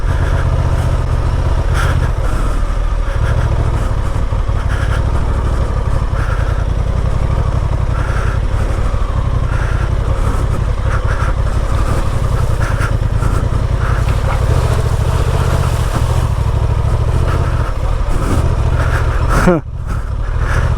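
A 2023 Honda Transalp 750 motorcycle riding on gravel, its engine droning steadily under loud wind rush, with a rider talking over it and a brief dip near the end.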